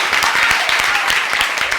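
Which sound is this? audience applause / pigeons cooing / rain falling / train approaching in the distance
audience applause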